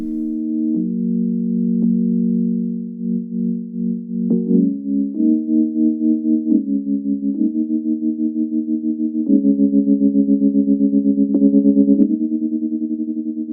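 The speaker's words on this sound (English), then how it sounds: "tremolo, which is an effect where the volume kind of wobbles up and down" A steady synthesizer tone shifts through a few pitch changes while its volume pulses up and down in a quick, regular tremolo wobble.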